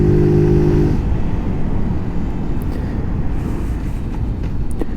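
A Zontes ZT125-U1 125cc motorcycle slows down and drops through the gears, its engine note falling from a brief steady drone into a rough low rumble, loud and close, with wind noise and no talk.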